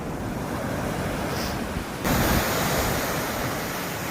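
Sea waves surging at a beach in Chennai with a steady, loud roar of surf and wind noise buffeting the microphone, swelling louder partway through and continuing without pause.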